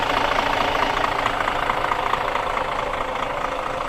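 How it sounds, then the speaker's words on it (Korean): A diesel bus engine idles with a steady, throbbing sound, loud and unchanging throughout, with a low rumble and a mechanical knocking texture. "잘 돌아가고 있습니다 엔진은"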